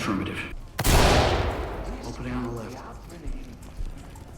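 A flashbang grenade bursts in a sharp, loud crack during a tactical shooter game, followed by a long fading ring and game ambience while someone talks.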